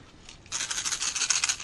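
A lipless crankbait fishing lure is shaken briefly, a quick burst of gritty rattling that starts after a short quiet moment and continues close and fairly loud.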